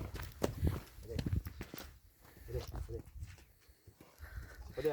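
A year-and-a-half-old filly walks along a road, her hoofbeats soft and intermittent beneath steady male speech.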